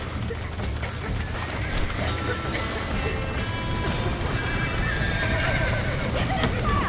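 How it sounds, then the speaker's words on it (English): Horses neigh and whinny with galloping clip-clop hooves in the Red Dead Redemption video game, set against a loud, busy stormy background with crashing noise throughout. "Now let's save the horses!"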